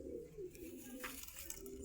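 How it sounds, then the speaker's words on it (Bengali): A Rampuri pigeon at a Dhaka bird market coos softly in a low, rolling murmur lasting under two seconds, faint and close with a little background noise. "রামপুরি খুব ফেমাস একটা কবুতর"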